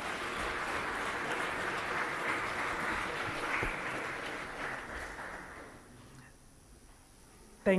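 An audience at a diplomatic New Year gathering with ambassadors and the Tanzanian president gives sustained applause, a broad wash of clapping that holds steady, then thins and fades toward the end.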